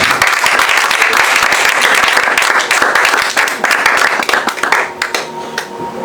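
A church congregation at a worship service applauds in praise of the Lord, with dense, steady clapping that runs loud and continuous throughout and thins slightly toward the end.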